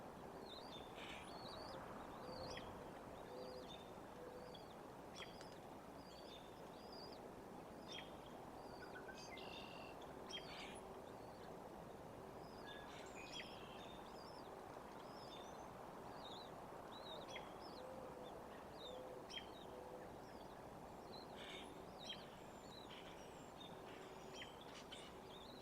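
Bald eaglets on a nest at Trempealeau give repeated short, high squawks and chirps. The calls come in scattered bursts, faint and distant, over a constant windy hiss.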